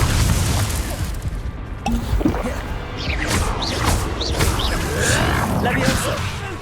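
A Confringo blasting spell going off in the Hogwarts Legacy video game, giving booming, crackling bursts amid a busy combat mix, with a character shouting over it.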